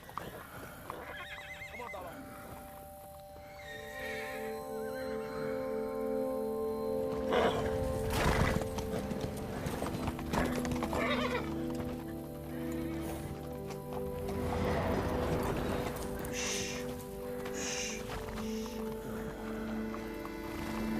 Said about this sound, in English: he calms the horses down so that their owners can get them to safety